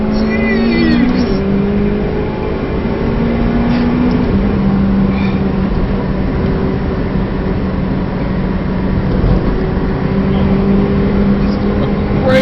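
A McLaren 720S engine runs at full throttle on the Nurburgring, a loud sustained roar rising and shifting in pitch from inside the cabin, with voices talking over it.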